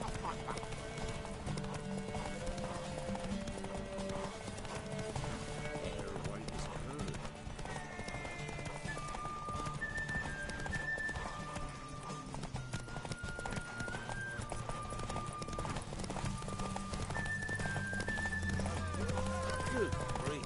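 Hoofbeats of Roach, Geralt of Rivia's horse, galloping in a Witcher 3 derby race, a steady clip-clop with an occasional whinny, heard under game music and talking throughout.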